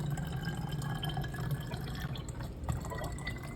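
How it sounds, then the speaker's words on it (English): Water tinted with food coloring pours steadily into a bottle already holding vegetable oil, giving a continuous close trickling and splashing with small drips throughout. "we will be adding the water with the food coloring just about a half an inch before the cup is full"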